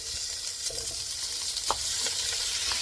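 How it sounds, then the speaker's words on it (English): Shrimp sauteing over medium heat in a pan for shrimp Alfredo, giving a steady, moderate sizzle with faint stirring clicks and scrapes and no voices. "now I'm ready to put in my shrimp"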